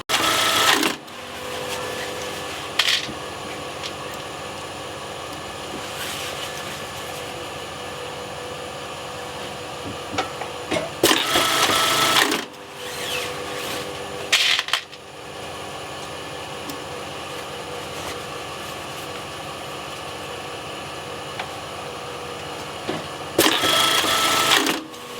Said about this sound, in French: principe de machine à boutons